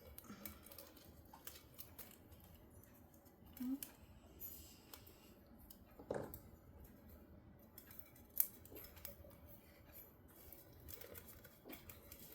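Quiet snips of scissors cutting at a few scattered moments, faint against a low background hum, with a sharper snip near the end.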